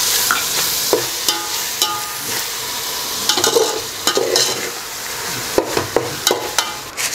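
Curd stirred into a frying masala of tomato for prawn biryani. Steady close sizzling runs under repeated sharp clinks and scrapes of a spoon against the pan.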